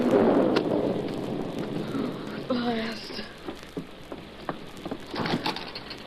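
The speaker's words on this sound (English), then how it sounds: "Waited a week for this storm." Heavy rain hisses steadily through a radio drama storm effect, with a rumble of thunder near the start; someone speaks briefly over the downpour.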